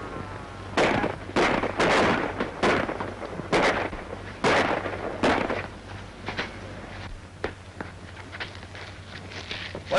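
Rapid volleys of gunfire from a 1934 film, a dense string of sharp cracks over the first five seconds, then scattered fainter shots fading away over a steady low hum.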